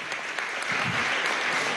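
Applause at a working meeting with the Somos Venezuela movement, a short burst of brisk clapping from a small audience, fairly close and steady throughout.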